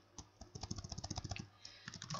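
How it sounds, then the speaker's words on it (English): Rapid keyboard typing, a quick run of close, crisp key clicks with a brief pause partway through before the tapping resumes. "we click title and we start typing"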